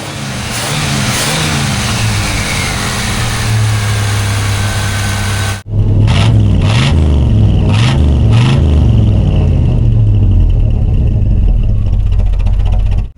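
A 1984 Chevrolet Monte Carlo SS, a barn find suspected of burning oil, runs loudly and steadily close by, its engine idling with a low rumble, briefly cut near the middle and then settling back into a continuous idle.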